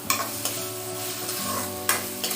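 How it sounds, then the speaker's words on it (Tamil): Moringa drumstick pods stir-frying in a pan with onion, tomato and green chili, giving a steady close sizzle broken by a few sharp scraping strokes of the stirring spoon. "நம்ம இதை வெங்காயம், தக்காளி, பச்சை மிளகாய் எல்லாம் சேர்ந்து வதங்கினதுக்கப்புறம் நம்ம முருங்கைக்காவை போட்டு நம்ம இதோட சேர்த்து ஃப்ரை பண்ணிக்கலாம்."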